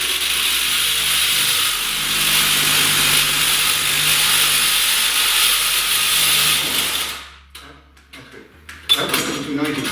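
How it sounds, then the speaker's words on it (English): A reciprocating saw cuts at an electrical box, a loud steady buzzing rasp that runs for several seconds, then stops abruptly, followed by scattered clicks and handling noises. "you're going to have to cut it with a sawzall"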